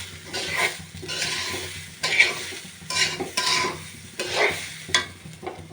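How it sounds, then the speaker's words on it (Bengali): Rice fries in a pan with plenty of green chillies for a beef biryani, rhythmic spatula scrapes about once a second over a steady close sizzle. "এবার ভালো করে আমি চালটাকে ভেজে নেব।"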